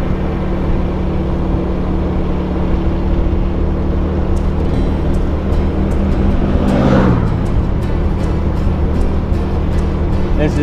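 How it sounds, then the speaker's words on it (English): A farm truck driven by a walk-behind tractor motor chugs past on a rural Thai road, its steady engine drone heard under constant wind and road noise from a moving scooter, swelling briefly as it goes by. "That's a tractor motor in the front of it. A walk behind tractor."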